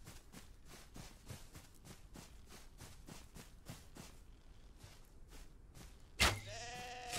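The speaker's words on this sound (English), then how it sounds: "That's a sheep. That's not a wolf." In the Western survival video game Outlaws of the Old West, a sheep lets out one loud, close bleat near the end, after a stretch of soft, rhythmic thudding.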